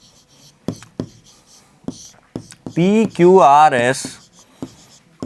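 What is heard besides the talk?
writing on a board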